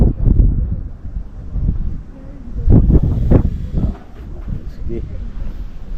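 Low, uneven rumbling buffets of wind hitting the microphone in gusts at an outdoor flea market, with muffled voices underneath.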